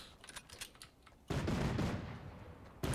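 Turret gunfire in the Fortnite video game, a rapid burst of shots that becomes a dense, loud stream of fire in the second half, with a fresh burst at the very end.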